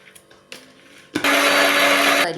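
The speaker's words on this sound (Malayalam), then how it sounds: "ഇനി നമ്മൾ കുറച്ച് പരിപ്പ് കൂടി എടുത്ത് പച്ചമുളക്, ഇഞ്ചി, കരിയാമ്പില അതും കൂടി ഒന്നും കൂടി ക്രഷ് ചെയ്തെടുക്കാം" A kitchen mixer grinder crushes lentils, green chilli, ginger and curry leaves with salt, starting with light clatter, then a loud, steady whirring motor that runs for about a second and stops.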